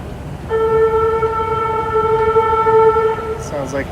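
A train sounds a long, steady horn blast of about three seconds at a station platform in Vaughan, Toronto, heard fairly loud over background noise.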